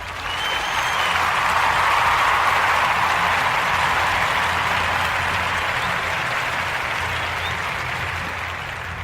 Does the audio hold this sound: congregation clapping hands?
yes